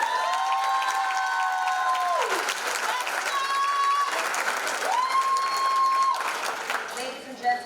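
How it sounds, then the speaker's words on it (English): Audience applause fills an awards ceremony hall, a steady dense wash of clapping that carries through under sustained music tones. "And another round of applause."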